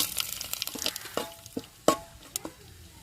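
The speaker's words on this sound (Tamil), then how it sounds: "எண்ணெய் சூடாயிருச்சுங்க கடுவு போட்டுக்கிறோம் கருவேப்பிலை சேர்த்துக்கிறோம் வத்தல் சேர்த்துக்கிறோம்" Mustard seeds, curry leaves and dried berries hitting hot oil, with sharp scattered pops and crackles over a soft sizzle, plus a few stirring scrapes, heard close up.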